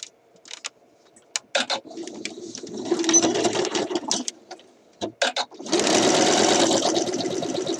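A home sewing machine stitches a quarter-inch seam along the fabric edge on a shirt dress, running in short bursts with pauses between, then settling into a steady, loud whirring run near the end.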